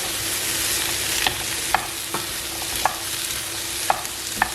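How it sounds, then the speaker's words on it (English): Onions sizzle and brown in a frying pan, a steady crackling hiss broken by a few sharp scrapes and taps of a utensil stirring, close and clear with no talk. "Onions are still browning."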